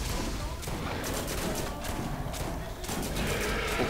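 Rapid gunfire from a shotgun and a turret in the Borderlands video game, dense overlapping bursts and thuds continuing without pause, loud and close, with a voice mixed in.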